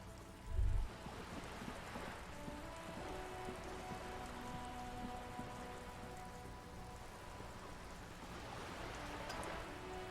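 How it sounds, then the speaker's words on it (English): Steady rain pattering on wooden boards and water in the video game Disco Elysium, a continuous soft hiss with faint drips and a brief low thump near the start, no voices. "All around you, rain keeps falling down."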